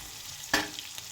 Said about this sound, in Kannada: ಗೈಸ್, ಇದನ್ನು ಕ್ಲೀನಾಗಿ ಫ್ರೈ ಮಾಡ್ಕೊಳ್ಳಿ.